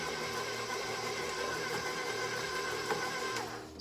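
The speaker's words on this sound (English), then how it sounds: "I'll let the KitchenAid do the work for me" A KitchenAid stand mixer churns snowball cookie dough studded with nuts, giving a steady, even motor whir with a faint rhythmic grinding that runs unbroken before easing off at the very end.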